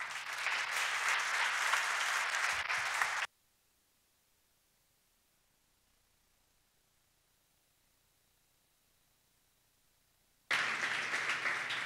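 Audience applause at a GrafanaCon tech conference in Los Angeles, a loud, dense burst of clapping for about three seconds, then near silence for about seven seconds before the clapping returns just as strong.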